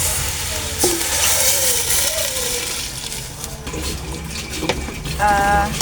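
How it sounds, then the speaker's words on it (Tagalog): Water is poured into a sizzling pot of sinigang made with barracuda head and miso, a loud rushing pour and hiss over steady frying crackle, close up, with no talk. "Lagyan na natin ang tubig"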